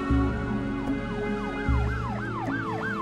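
An ambulance siren wails in a repeating up-and-down pattern, loud and close over a low rumbling engine, continuous throughout.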